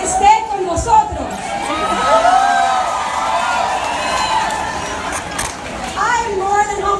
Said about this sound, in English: I was not expecting such a large crowd, but I am thrilled that it's a large crowd